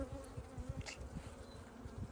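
Honey bees hum steadily at low volume while a beehive nuc is opened for inspection, a soft continuous drone with small swells as individual bees pass close.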